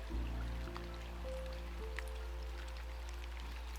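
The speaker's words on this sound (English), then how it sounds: "You're just hiding from the rain." Soft, steady rain patters faintly in the background beneath a low hum and a few sustained tones, with no one speaking.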